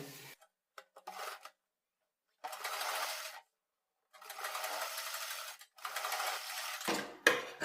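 A sewing machine stitches a buckram patch along the piping of a sleeve, running in several bursts of whirring stitches with short pauses between them.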